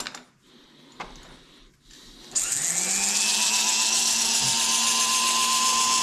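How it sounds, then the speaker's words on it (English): Power grinder working metal in a machine shop, a couple of short taps and clicks then a loud, sustained high-pitched whine as the tool spins up and grinds steadily, close by with no talking. "I'm going to grind that a little better."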